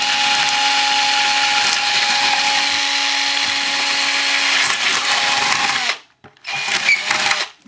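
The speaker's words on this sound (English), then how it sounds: "And then I'll go ahead and drill with this 1/4-inch drill." A 1/4-inch power drill whines steadily as it bores through a part for a rotor mast assembly, loud and close, then cuts off near the end with a couple of short bursts after.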